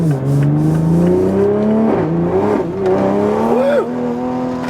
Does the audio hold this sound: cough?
no